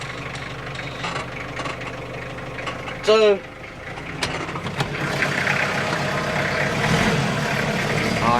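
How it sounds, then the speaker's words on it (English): A tractor engine with air conditioning and radio is cranked over briefly and fires, then settles into a steady low idle rumble that continues to the end, with someone talking over it early on. "fire this tractor up"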